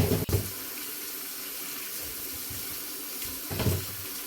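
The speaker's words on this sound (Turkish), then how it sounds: "Hadi bakalım domateslerimi yıkamaya başlayalım. Önce domatesleri yıkayalım güzelce" Tomatoes being washed under a running kitchen tap, a steady loud stream of water with brief splashes and clatter at the start and near the end, with no talking.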